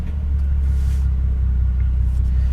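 A flooded Bentley's twin-turbo V12 engine idles with a deep, steady rumble, loud and close, holding a constant low drone throughout.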